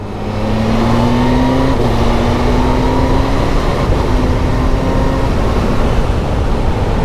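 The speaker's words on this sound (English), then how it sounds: "I'm going to use the quick shift." A motorcycle with a quick shifter climbs through several upshifts at wide-open throttle, its loud, close engine note rising steadily, then dropping abruptly at each shift before rising again.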